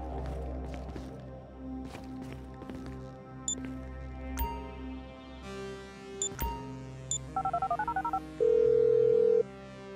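Phone dialing in the video game Grand Theft Auto V, starting with low rumble and sharp hits, then a quick run of short dial tones followed by a steady, sustained tone, moderately loud with no talk.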